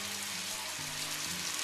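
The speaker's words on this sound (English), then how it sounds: "I'm also grilling the vegetables at the same time that was in the mixture" Vegetables sizzle steadily on a griddle set low, around 275, while Korean spicy chicken cooks alongside; a broad, even frying hiss fills the clip with a low hum underneath, close and moderately quiet, with no talk.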